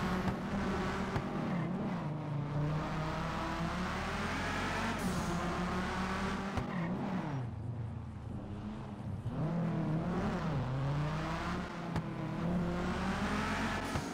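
An SRT car in GTA 5 running a swapped-in Subaru exhaust sound, the engine revving and accelerating continuously with rising and falling pitch sweeps, loud and close, with occasional tyre noise and no talk.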